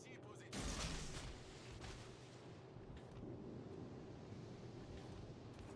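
Naval gunfire in World of Warships Legends, a loud booming salvo near the start followed by rumbling, wind-like game ambience and a voice talking over it.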